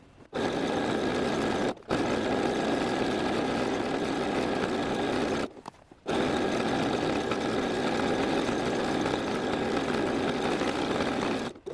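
A sewing machine stitching a fabric belt, with a loud, continuous motor whir in long runs broken by two brief pauses, heard close and alone with no voices.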